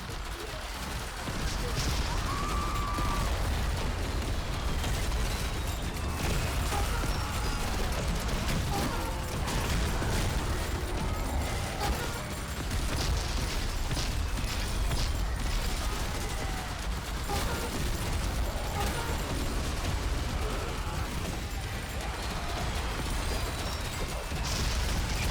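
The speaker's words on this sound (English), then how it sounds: "I love these explosions sometimes. It's those shrapnel grenades." Shrapnel grenades burst amid heavy gunfire in the zombie survival game Yet Another Zombie Survivors: a relentless, dense barrage of explosions and shots with no pauses, with a voice talking over it.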